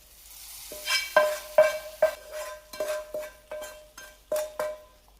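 Sharp bursts of sizzling as mustard seeds drop into hot oil while tempering for fish curry, about nine quick crackling hits with a stirring clink, close and fairly loud, no voices.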